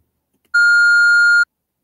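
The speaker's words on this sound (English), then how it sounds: "The answering machine beeps." An answering machine gives a single clean electronic beep, a steady pure tone lasting about a second, loud and isolated against silence.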